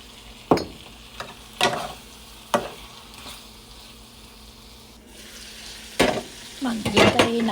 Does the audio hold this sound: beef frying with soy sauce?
yes